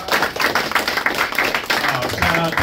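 An audience claps loudly and continuously at a live comedy podcast taping in a Honolulu stand-up club, with a dense, busy patter and voices mixed in.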